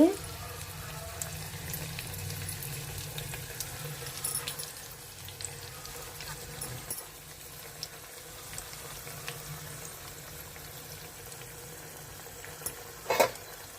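Steady low sizzling and crackling of dried red chillies frying in hot oil, continuous and fairly quiet, with a few sharp pops and clinks near the end.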